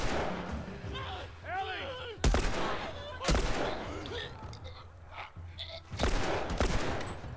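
Loud gunshots ring out in The Last of Us Remastered, several heavy blasts spaced a second or so apart, mixed with shouting voices and game effects in the background.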